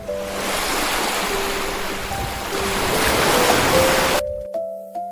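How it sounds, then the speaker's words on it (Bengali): Ocean waves with a boat afloat roll in as a loud, continuous surf roar that swells and eases, with soft melodic notes over it, then cut off abruptly near the end. "ঢেউয়ের সাথে নৌকা ভাসে"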